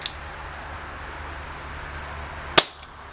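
A G&G GS-801 CO2 blowback airsoft pistol fires one sharp, loud crack through a chronograph, heard after a faint tick over steady background hiss, with a short ring afterward.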